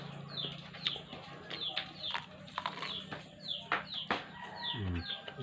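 Chickens cluck and call repeatedly at close range around feeding time, a busy mix of short bird calls over a low background hum.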